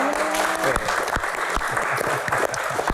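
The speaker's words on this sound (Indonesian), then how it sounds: "Tepuk tangan." Audience applause at a televised Indonesian Q&A show, a steady dense clapping that holds loud and continuous for the whole stretch with no voices over it.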